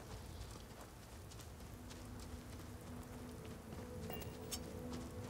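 Rain falling in the video game Starfield, a soft, steady hiss with scattered light patter, faint and continuous throughout with no talking.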